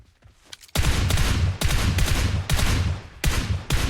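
Several loud bursts of automatic gunfire in the mobile battle-royale game PUBG Mobile come in rapid succession, each lasting under a second, separated by brief gaps with no talk over them.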